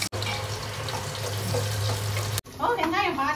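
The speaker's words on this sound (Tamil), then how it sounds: "வெங்காயம் பாதி வதங்கிடுச்சு." Small onions sauté in a pan for a Chettinad-style mutton kuzhambu, giving a close, steady sizzle and crackle that breaks off briefly before a voice speaks over the frying at the end.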